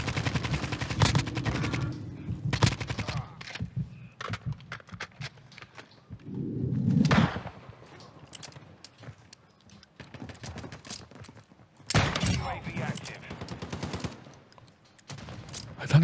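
Video game gunfire from a player's weapon, with rapid bursts of sharp shots clustered at the start, the middle and again later, plus scattered single cracks in between and someone talking over parts of it.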